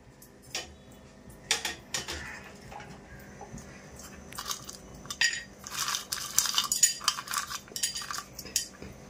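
Dry whole spices (cinnamon, cloves, cardamom) rattle and scrape against a metal pan while dry roasting, with irregular clinks and stirring taps growing busier toward the end.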